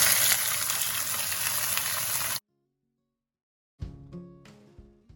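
Chopped chayote melon poured into a hot pan of fried garlic sets off a loud, dense sizzle, which cuts to silence and then returns as softer crackling with a few clinks of utensils.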